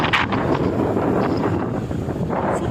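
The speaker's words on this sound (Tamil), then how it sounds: "சுத்தமாக வாய்ஸ் கேட்காதுன்னு நினைக்கிறேன். ஏன்னா அவ்வளோ காற்றடிக்குது" Strong seaside wind buffets the microphone at the Pondicherry shore, a loud continuous roaring rumble that never lets up across the short stretch.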